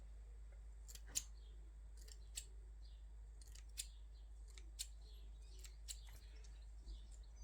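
Scissors snip model railway hedge material in a quiet room, a series of small sharp cuts spaced irregularly about once a second, faint and close, with no talk.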